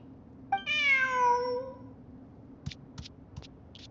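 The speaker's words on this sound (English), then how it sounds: "Who's a good kitty?" A cat in the video game Genshin Impact gives one clear, drawn-out meow, followed by a few soft, brief clicks or taps.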